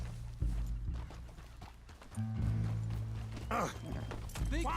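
Horse hooves clip-clopping at a trot in Red Dead Redemption 2, a steady rhythmic thudding under game music with sustained tones and a brief whinny-like sweep near the end.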